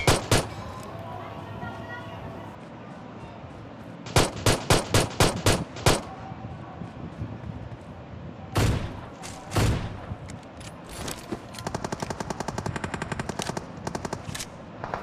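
Machine-gun fire in PUBG Mobile, rattling in several loud bursts of rapid shots with short pauses between, ending in a steady stuttering stream of fire; a voice talks faintly underneath.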